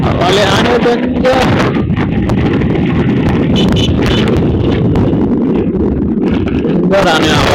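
Wind buffets the microphone during a road trip from Kathmandu to Pathlaiya, Simara, a loud continuous rumbling roar that persists throughout while people talk over it.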